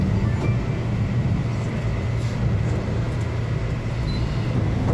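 Fujikyu line limited express train, the Resort Fujisan service, running past a Mount Fuji viewpoint: a steady, continuous low rumble of wheels and motors heard from inside the car, even and unbroken throughout.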